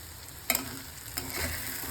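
Okra with a little crushed peanut sautéing in a pan, giving a soft continuous sizzle broken by two brief scrapes of the spatula, close and with no talking.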